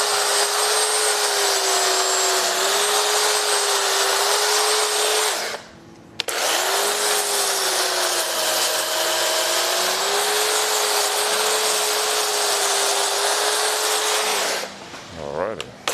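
A chainsaw carving an ice sculpture runs loud and steady with a constant high whine, cutting out briefly once and again near the end, close and dominant throughout.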